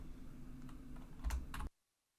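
Typing on a computer keyboard: soft, close key clicks in a short quiet run over a faint hum, with a couple of slightly firmer taps near the end before everything falls silent.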